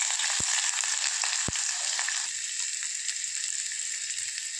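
Chopped onion sautéing in hot oil in a pan, a dense steady hiss of frying that eases slightly midway, with two sharp low knocks of a utensil against the pan early on; no speech.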